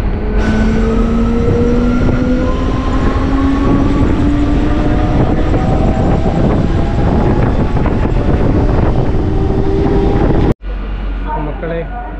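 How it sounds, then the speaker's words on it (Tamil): A MEMU express train on the Salem to Arakkonam line pulls away from a station, a loud steady rumble and rising motor whine with wind buffeting, cutting abruptly to a quieter carriage interior near the end. "ட்ரெயின் இங்கேருந்து கிளம்பிடுச்சு மக்களே"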